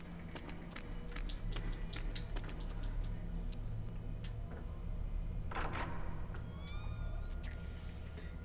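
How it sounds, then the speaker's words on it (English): A small pet cat meows indoors, a short rising cry heard once against a quiet room hum with scattered light clicks and ticks, alone and without talk. "She's just little kitty cat."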